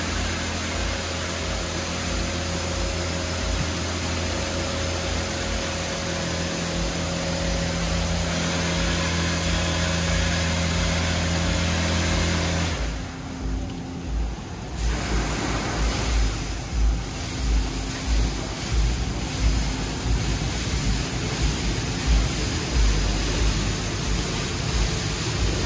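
A Washworld Razor automatic car wash sprays protective product over a vehicle, heard from inside as a dense, loud hiss and rushing water that briefly drops away midway, then resumes with uneven splashing and low mechanical hum.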